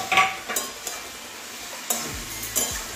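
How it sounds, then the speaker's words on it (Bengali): Bitter gourd and potato with mustard paste stirred in a pan after the lid comes off: a few scattered spatula scrapes and taps against the pan over a faint sizzle, no voices. "এবারে ঢাকনাটা খুলে নিচ্ছি, নাড়িয়ে দেবো একবার"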